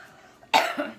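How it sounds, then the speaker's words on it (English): A single sharp cough from a person during a live kitchen cooking event, loud and close, followed by a smaller second cough burst. "It seems the minute I start, I have to cough and then get my voice cleared."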